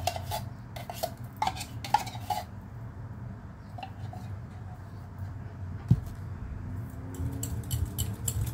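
A fork scrapes and clinks against a bowl while stirring a graham dessert mixture, with quick bursts of clatter at first, then softer scraping and a single sharp tap near the end, close and fairly quiet.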